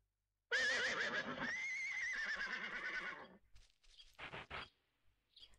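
A horse in a riding school video game gives a loud, wavering whinny lasting a few seconds, followed by a short series of clip-clopping hoofbeats and a brief snort.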